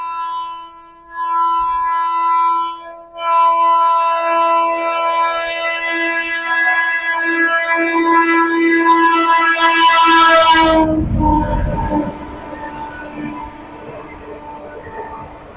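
An express train speeds past at a railway junction, its loud horn blaring repeatedly and then giving way to a roaring rush of wheels and wind as it overtakes a standing train.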